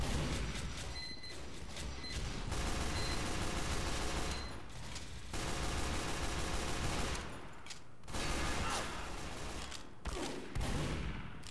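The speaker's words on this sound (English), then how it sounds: "We're also being sniped a bit." Sustained gunfire in the Team Fortress 2 video game, dense overlapping shots and bursts running almost continuously with brief gaps, moderately loud and no one talking.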